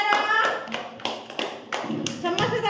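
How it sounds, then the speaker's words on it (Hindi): Young children in an anganwadi classroom clap their hands together, a run of rhythmic sharp claps close by, mixed with a child's and an adult's voices talking over them. "समस्त ताली मार दियो।"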